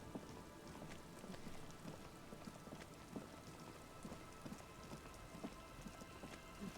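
Steady rain from the Disco Elysium video game, a dense, even patter with scattered drops and a faint rumble, continuing alone without voices.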